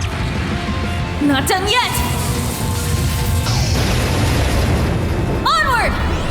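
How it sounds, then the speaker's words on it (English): Heavy cannon blasts and crashing impacts from the video game Trails Into Reverie, loud and dense throughout, with a character's voice calling out over the battle noise. "Time to bring out the big guns! Charge them good and... fire!"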